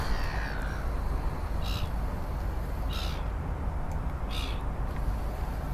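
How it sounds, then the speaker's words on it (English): Seagulls in Vienna, Austria give three short, spaced calls at a middle distance over steady loud outdoor wind or water noise. "all the seagulls are coming back"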